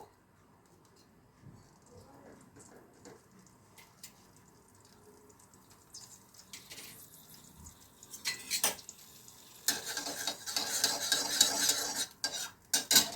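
Soft scraping and stirring in a metal kadhai as ghee melts, with a spoon clinking against metal, growing louder and busier toward the end, plus a faint sizzle.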